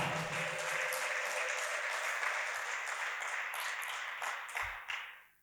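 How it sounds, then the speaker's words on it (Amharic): Congregation at a church Easter sermon breaks into sustained, dense applause that carries on evenly for several seconds before tapering off and fading out at the end. "ለዚህ ጌታ እስቲ እልልታ ጭብጨባ።"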